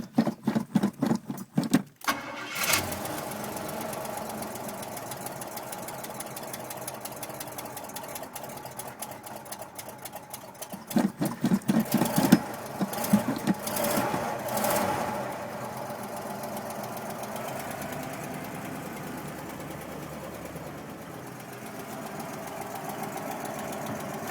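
A 1982 Cadillac hearse engine starts and runs steadily at idle, a continuous mid-toned rumble with a brief burst of cranking noise early on and some louder revving around the middle.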